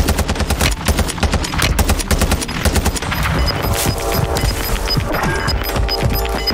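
Loud, rapid bursts of automatic gunfire rattle continuously in the video game Call of Duty: Warzone 2.0, mixed with crashing impacts and scattered single shots.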